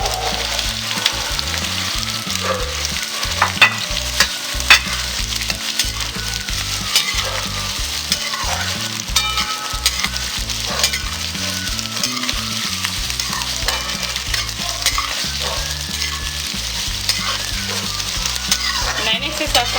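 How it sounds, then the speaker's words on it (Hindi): Onions sizzle and fry steadily in hot mustard oil in a pan for stuffed masala parwal, with continuous crackling and intermittent scraping from stirring, loud and close throughout. "अब इसमें हम ये प्याज डाल देते हैं।"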